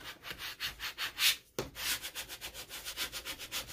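Adhesive vinyl is rubbed down onto a foam board in quick, rhythmic back-and-forth strokes, a close, scratchy swishing with one brief break near the middle.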